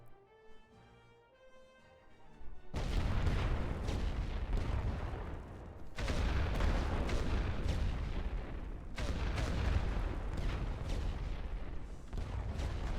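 World War I artillery and gunfire in a Western Front strategy game: heavy booms and rolling volleys, loud and dense, arriving in repeated bursts after a quiet start.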